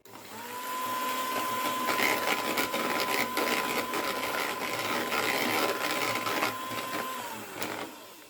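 Butter and eggs whisked for caramel cupcakes, most likely with an electric mixer, giving a steady, fairly loud whirring drone with a constant high whine that runs unbroken for about eight seconds, then cuts off.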